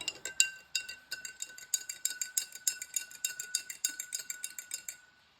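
A metal spoon clinks rhythmically against a glass or bowl while stirring a marinade of water, salt and 9% vinegar for pickled purslane, about twenty bright, quick taps in a steady beat that stops at the end.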